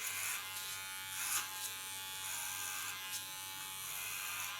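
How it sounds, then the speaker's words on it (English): An electric hair clipper cutting through thick hair during a nape shave, a close, continuous buzzing hum that bogs slightly in short pulses as it works, with no talking. "Can hear she has thick hair. My clipper really has to work."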